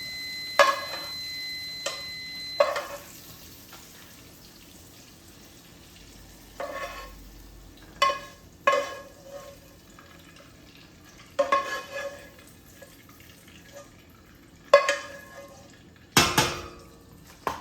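Sausages in a pan for spaghetti get stirred and scraped, with intermittent clanks and scrapes of utensil on metal every second or two over a faint low sizzle, close and otherwise quiet.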